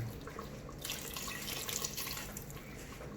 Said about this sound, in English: So I'm going to add a little bit more water to this.